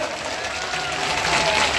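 A crowd at a political rally claps in a dense, continuous patter that builds slightly louder toward the end, with voices mixed into the noise.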